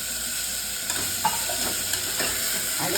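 Beans and chopped vegetables sizzle and hiss steadily in a hot pan while being stirred for a home-cooked veg biryani, with occasional soft scrape and clink sounds over the continuous frying.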